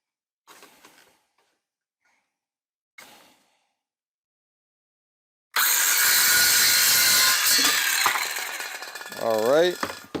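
ABS pipe being sawn by hand for a snow plow blade, starting after a few quiet knocks as a loud steady rasping cut that continues to the end, with a brief voice-like sound near the close.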